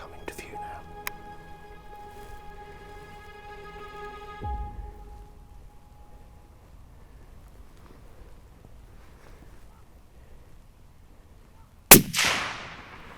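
A single sharp rifle shot rings out during a fallow deer stalk, loud and close with a short rolling echo after long near-silence.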